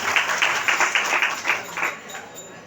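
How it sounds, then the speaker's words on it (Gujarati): Guests are welcomed with applause at an ashram gathering: a clear series of rhythmic, fairly close claps from a crowd that thins out and fades over the final second. "આપણે તાળીથી વધાવી"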